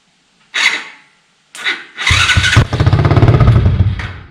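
A Chinese 110cc ATV that sat outside for a couple of years cranks over in two short bursts, then catches and runs with a steady, loud, rapid idle close by.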